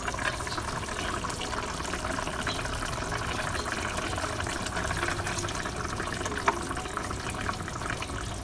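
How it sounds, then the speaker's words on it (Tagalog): Vinegar pours steadily into pork adobo in a pan, a continuous liquid rush over faint sizzling, with one small clink near the end and no talking. "So ngayon po ilalagay na po natin yung suka."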